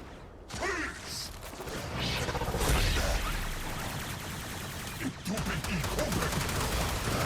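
Enemies in Warframe firing on one another, a dense run of gunfire and mechanical clatter that carries on steadily at moderate loudness throughout, with occasional whooshes.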